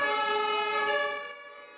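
A steady, close siren wails with a bright harmonic tone during a protest, then fades slightly as it trails off.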